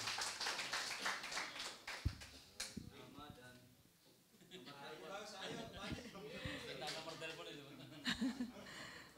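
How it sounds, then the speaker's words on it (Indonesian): An audience claps for Bu Nita at a gathering of women, a scattered round of hand claps mixed with chatter and laughter throughout. "Tepuk tangan untuk Bu Nita."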